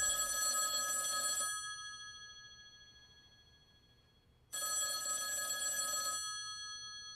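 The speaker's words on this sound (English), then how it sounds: "Just gonna keep on ringing." An old-style telephone bell rings in two long trills separated by a pause, bright and metallic. The first ring fades away before the second starts, and no one speaks over them.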